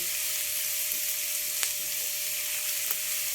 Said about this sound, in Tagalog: Tayo po magigisa na. Yan, nilagyan na po natin yung ating bawang at saka sibuyas.